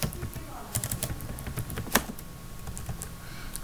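Keys clatter on a computer keyboard in short uneven bursts as a name is typed, with one sharper keystroke standing out, while a person talks alongside.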